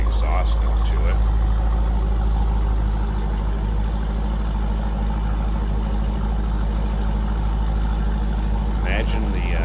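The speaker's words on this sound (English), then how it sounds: "Slip around to the back so you can hear this run. It's just got a menacing exhaust note to it." A 2020 Jeep Grand Cherokee Trackhawk idles with a deep, steady exhaust rumble heard from behind the vehicle. The low drone stays loud and constant throughout, and a voice is faintly present.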